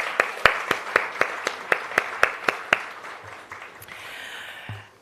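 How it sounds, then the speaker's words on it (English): A small group at a Jamaica Diaspora Conference launch claps for the sponsors, about a dozen sharp, evenly spaced claps that stand out clearly before thinning into scattered taps and a faint murmur. "A round of applause for them, please."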